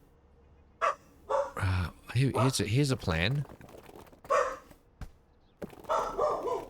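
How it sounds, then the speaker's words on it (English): Hank the dog barks and yips several times, loud and close, mixed in with someone talking over a computer game. "It makes me happy when Hank barks."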